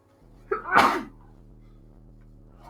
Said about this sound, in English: When the hype makes you sneeze.